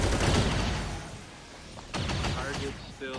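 Unsuppressed gunshot in a video game, with broadband blasts at the start and again near the middle and end, sitting among game sound effects and brief voice-like tones.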